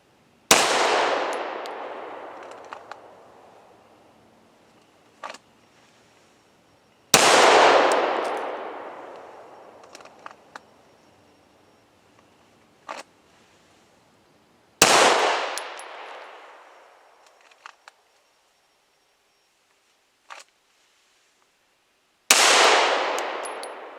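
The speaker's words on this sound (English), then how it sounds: "For number 2, draw and fire 1 shot 5 times." Four sharp pistol shots ring out evenly spaced, each a loud crack with a ringing decay, separated by quiet pauses with faint clicks and clinks of handling.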